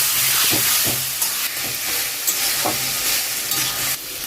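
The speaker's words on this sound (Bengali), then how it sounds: "সমস্তটাই তেলের মধ্যে ভালো করে ফ্রাই করতে হবে।" Turmeric powder frying in oil on full heat, a loud close sizzle with repeated stirring scrapes at a steady pace, no talk.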